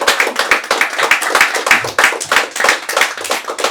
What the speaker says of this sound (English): Let's give a big round of applause for Alicia Kayley as she makes her way to the stage